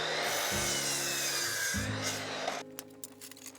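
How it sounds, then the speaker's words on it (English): Miter saw fitted with a cutting jig slicing through Trex composite decking boards, two loud whining cuts in quick succession, then the motor spinning down with clattering handling noises. "I've set up this cool little jig on the miter saw to make all of the cuts easier, quicker and more accurate"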